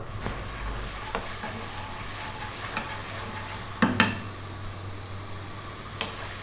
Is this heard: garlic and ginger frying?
yes